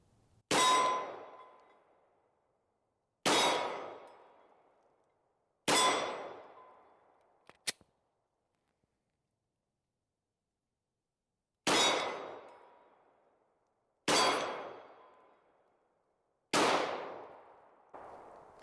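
Six sharp, loud pistol shots ring out from a Glock 36 firing aluminum-cased ammunition, each a crisp crack with a short decaying echo. They are spaced a few seconds apart, with a long pause in the middle and a faint metallic clink.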